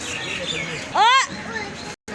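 A bird at a zoo gives a single short burst of rapid chirps, loud and close, over a murmur of crowd chatter and background noise.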